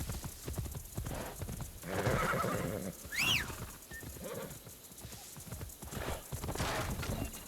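In the video game Assassin's Creed Shadows, hooves clip-clop steadily as a horse gallops, and a sharp, shrill whinny rises partway through over a busy ambient backdrop.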